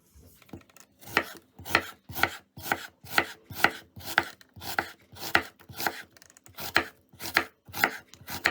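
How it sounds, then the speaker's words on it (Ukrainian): A knife chops an onion into half rings on a board, about fourteen steady, evenly paced chops, close and clear with no voices. "Поріжу цибулю напівкілечками."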